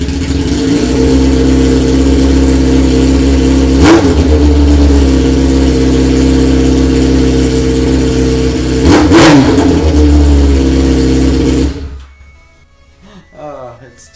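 A Yamaha R6 motorcycle fitted with open headers idles loudly and close by, with two sharp throttle revs rising above the drone before the engine shuts off.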